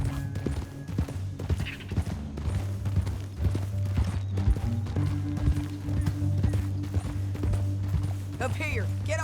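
Horse hooves clip-clop at a steady pace in the Red Dead Redemption 2 video game, with a constant low rumble and background music underneath while people talk over the riding.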